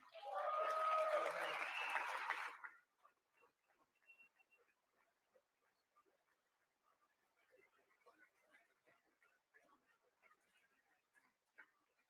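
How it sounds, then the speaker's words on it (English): Audience applause in the chamber during the State of the Union address: a short burst of clapping lasting a little over two seconds, then fading to scattered faint sounds. "I wasn't sure if anybody, even on this side, was going to applaud for that."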